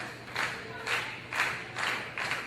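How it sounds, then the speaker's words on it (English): A wrestling crowd cheers for wrestler Nate Wings as he makes his entrance, the roar swelling and easing in steady, rhythmic waves, like a chant or clapping, with no talk over it. "Crowd coming alive here for Nate Wings."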